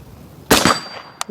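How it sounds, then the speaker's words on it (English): Rifle fire from a Bravo Company Manufacturing rifle striking steel targets outdoors: one loud sharp shot with a ringing metallic clang, then a second brief crack near the end, no talking. "I'm just going to shoot some metal."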